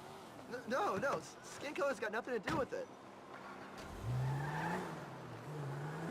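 Car engine revving in Grand Theft Auto V, a rising and falling motor whine coming in near the end after a stretch of speech, moderately loud and close.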